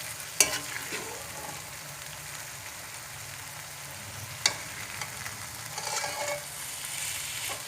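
Onions browning in a karahi while a chicken white karahi is cooked, giving a soft, steady sizzle with a few sharp clinks of a utensil against the pan and a brief scraping stir near the end.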